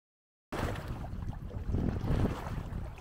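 Wind and waves on a lake buffet a canoe on the Bowron Lake circuit, a rough rushing wash with gusty surges and sloshing, loud and close after a brief silent start.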